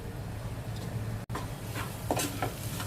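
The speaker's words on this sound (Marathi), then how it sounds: "छान मंद आचेवरती आपण ते परतून घेऊ" A turmeric mixture is sautéed over a low flame: a soft, even sizzle runs beneath close stirring scrapes and light utensil knocks, with a brief dropout midway.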